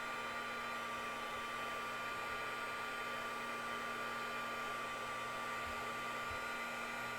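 An embossing heat tool blows a constant, steady whirring hiss while it heats glitter embossing powder on a donut-shaped paper tag, with no pauses across the whole span.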